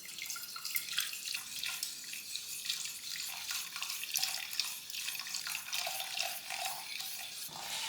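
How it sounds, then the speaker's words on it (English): Milk poured through a pipe into a saucepan, a continuous close liquid stream splashing and gurgling steadily with small bubbling surges, with no voices. "have the pipe here so the milk can run here and hopefully reach this saucepan also"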